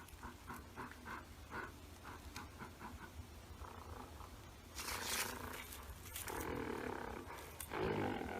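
A dog-like figure in dark woods makes low, rough growling and panting, faint and distant at first, then swelling into heavier, harsher snarls toward the end.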